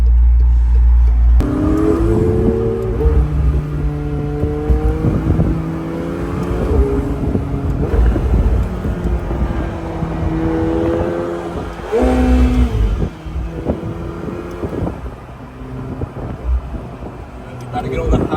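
A McLaren 720S sports car driving, its loud engine droning and rising and falling through revs from inside the cabin, with a strong surge near the middle and a quieter stretch toward the end.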